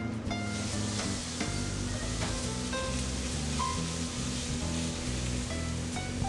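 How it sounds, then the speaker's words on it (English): Garlic browning in a restaurant pan, a steady dense sizzle with occasional sharp pops and clinks, close and continuous, with kitchen music or hum underneath. "Now he's going to brown the garlic."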